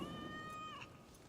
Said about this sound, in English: Oh my god, it's a cat!